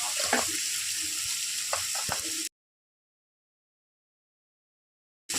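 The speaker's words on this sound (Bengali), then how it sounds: "চিপে চিপে আমি সবগুলো শাপলা দিয়ে দিলাম ওই মশলার সাথে কষবো" Water lily stems tossed into spice paste in a hot pan give a dense, hissing sizzle close up, with a few soft stirring knocks, then stop abruptly into silence before a brief return.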